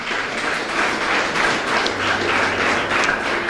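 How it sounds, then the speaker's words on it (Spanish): A church congregation claps in praise, a steady, dense burst of applause from many hands that holds at an even level for several seconds. "Dele fuerte el aplauso al Señor."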